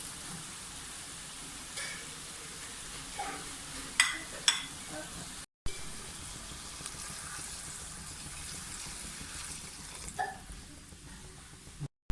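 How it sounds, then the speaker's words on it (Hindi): Minced keema fries in a pan, a soft continuous sizzle with occasional clinks and scrapes from stirring, heard fairly faint and close. "अब वो अपना पानी भी कीमा छोड़ रहा है, और साथ साथ जो है ना ये मिक्स भी हो रहा है।"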